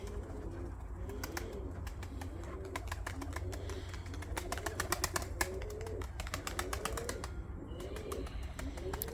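Tumbler pigeons coo in repeated soft, throaty rolling phrases at close range, layered over a constant low hum, with sharp rhythmic clicking ticks running through much of the scene.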